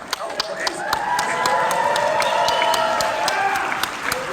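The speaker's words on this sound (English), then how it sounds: "I don't need your pathetic claps" Conference audience clapping and cheering for a TV celebrity speaker in San Francisco, a sustained round of applause with whoops and voices mixed in.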